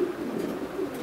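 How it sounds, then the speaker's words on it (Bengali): Fancy pigeons coo in a low, throaty, continuous burble at a pigeon farm in Kushtia that keeps breeds such as Indigo Bar and Andalusian. The cooing is close and steady for the whole short moment, with no other sound over it. "খুব অসাধারণ কবুতর।"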